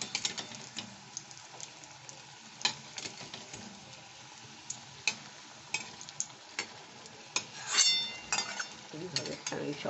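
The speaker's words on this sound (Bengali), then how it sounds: "এইভাবে আমি সব কটা ভেজে ফিরে আসছি" Leftover jackfruit curry chops fry in a pan with a soft sizzle under repeated sharp clicks and scrapes of utensils, quiet and close, with a brief louder rustle near the end.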